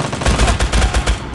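Rapid gunfire cracks in a D-Day video game battle, a quick run of loud, closely spaced shots with no pause.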